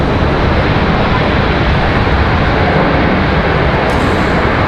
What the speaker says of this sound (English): We're going to stay over here because of that 777 arrival.